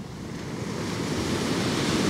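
Sea surf breaks at the foot of sheer coastal cliffs in Spain, a steady broadband roar of waves mixed with wind rumble on the microphone, swelling slightly toward the end.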